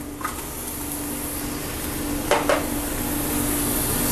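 White onion goes into a pan of bacon and its rendered grease, a steady soft sizzle with a couple of sharp clinks of a utensil against the pan partway through.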